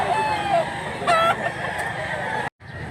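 A big rooster crows loudly and close, giving a couple of strained, rising calls over a steady background hum, with the crowing ending in a brief cutoff.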